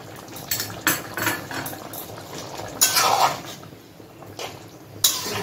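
Spices being stirred into potol chingri, a Bengali pointed gourd and prawn curry, in a pan; soft scraping and clinking of a spoon against metal with a bubbling simmer, several louder scrapes standing out, no talking.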